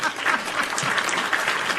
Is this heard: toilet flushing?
no